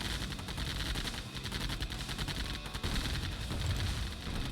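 Gun turrets in Command & Conquer Remaster fire in rapid, continuous bursts, a dense, loud clatter of overlapping shots that rattles on without pause amid battlefield noise.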